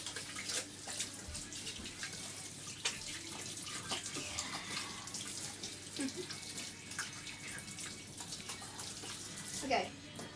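Water runs from a tap as hands are washed with soap at a sink, a faint, steady splashing stream with small knocks and a distant voice in the background.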